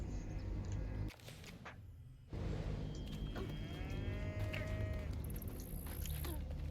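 A cow in the video game South of Midnight lets out a long, drawn-out moo that rises and falls, heard clearly over quiet game ambience.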